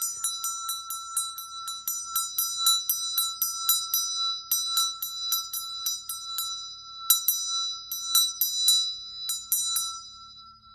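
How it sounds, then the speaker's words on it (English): A small bell is rung for peace at a memorial in Hawaii, struck over and over in quick bursts of bright, ringing chimes with short pauses, close and clear with no talking. "ring bell for peace."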